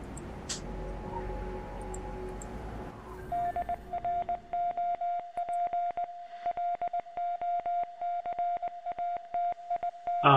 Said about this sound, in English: Oh god, Morse code.